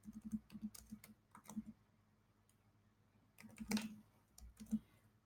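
Keystrokes on a computer keyboard come in short irregular bursts with a pause in the middle, close and fairly quiet, with no talking.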